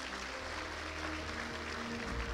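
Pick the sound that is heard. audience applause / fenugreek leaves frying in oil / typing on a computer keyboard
audience applause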